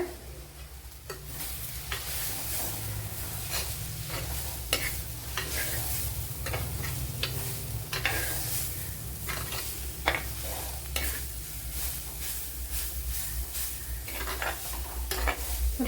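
Curry leaves sizzle and crackle in oil in a pan of squid curry as a spoon scrapes and stirs in an uneven rhythm, close and steady with a low hiss underneath and no talking.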